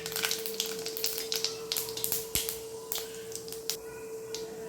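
Mustard seeds and fennel seeds crackling in hot oil in a kadai, a steady run of sharp, close pops and spits over a continuous sizzle, with one louder crack midway.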